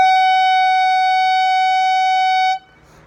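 A clarinet holds a single steady note for about two and a half seconds, bright and loud with rich even overtones, then cuts off abruptly into near silence.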